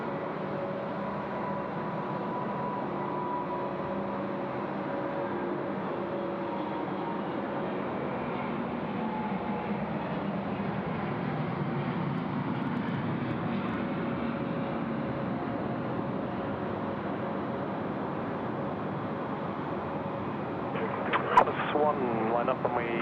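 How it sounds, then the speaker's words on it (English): A Singapore Airlines Airbus A350 rolls for takeoff on runway 34 left at Sydney Airport, a steady distant engine roar lasting throughout beneath almost continuous talk, with a brief louder burst near the end. "Singapore Airlines now, the A350 rolling 34 left"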